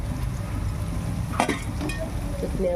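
Fresh coriander leaves fry in hot oil with tomato and turmeric, a steady close sizzle marked by a few quick scraping stirs and light clinks partway through.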